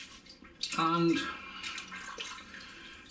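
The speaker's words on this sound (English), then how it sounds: "let's get the water off the top of it" Water tipped off the top of a bloomed TGGR Essence of Scotland Mountain Yew shaving soap, a short splashing pour lasting about half a second, followed by quiet handling and a brief spoken word.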